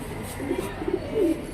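Kaldume pigeon held in a person's hand gives soft, low throaty coos in a few short bursts, close and fairly quiet, with faint background hum.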